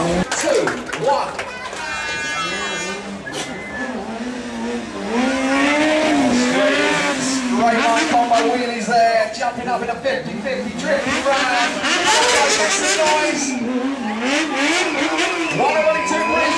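Motorcycle engine revving hard during a freestyle stunt riding run at the Ace Cafe, with wheelies and a drift, rising and falling pitch and tire squeal, loud and close under a commentator's talk.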